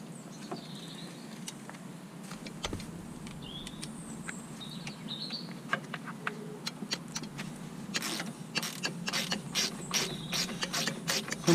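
A ratchet works loose the caliper bolts on an AP Racing big brake kit, sparse clicks at first building to fast, close bursts of sharp ratcheting, with birds chirping faintly outdoors.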